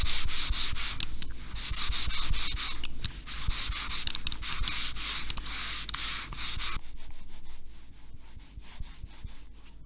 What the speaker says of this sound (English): Here's what this pad sounds like with Dotskate's endgame.